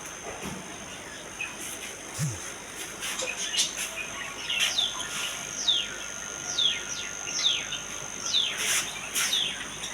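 Budgerigars chirp at an outdoor bird and pigeon market in Pabna, giving repeated sharp, high, downward-sweeping calls in quick runs. The calls are moderately close, rise over a steady low market hum, and grow busier in the second half.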